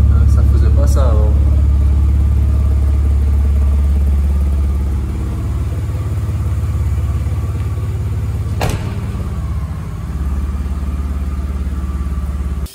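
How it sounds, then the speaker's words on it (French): A BMW E46 running with a torn-off exhaust line, a loud, close, rough low rumble that holds steady throughout with a sharp rev blip near the start. "Ça fait un bruit, on dirait le pot, en fait la ligne elle est arrachée"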